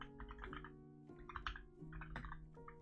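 Light typing on a computer keyboard makes quiet clusters of clicks over soft sustained tones in the background.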